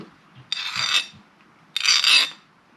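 A file rasped across cheap, only lightly hardened tool steel to test its hardness: two distinct scraping strokes, each about half a second, bright and gritty, close up with quiet between them.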